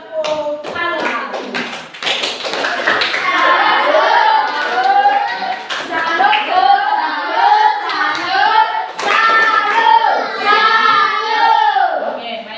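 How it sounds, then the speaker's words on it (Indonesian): Children in a classroom clap their hands together after a group presentation, a busy patter of taps with young voices chattering and calling over it throughout. "Baik, tepuk tangan."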